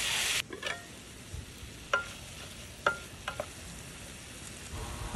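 Spices and plenty of tomatoes sauté in a pan, a low background sizzle punctuated by several sharp spoon scrapes and knocks against the pan, close and fairly quiet, no voices.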